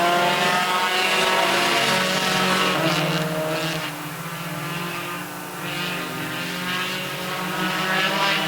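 Race cars starting a heat race, engines roaring loud and continuous as the field pulls away, the drone dipping briefly midway before swelling again, with no talk over it.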